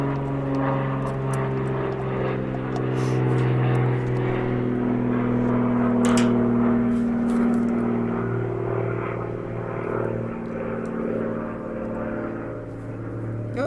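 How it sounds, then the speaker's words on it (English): A propeller airplane passes overhead outdoors near water, a steady droning hum with tonal bands that swells slightly mid-pass and holds through the whole stretch without talk. "Oh, plane overhead."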